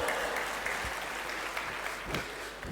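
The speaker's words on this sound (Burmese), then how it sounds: "ကျေးဇူးပါလက်ခုပ်လေးတီးပေးပါသူ့ကို" Audience applause at an anniversary event in Panglong, a steady wash of clapping hands at moderate distance, fairly soft, with a few louder individual claps standing out.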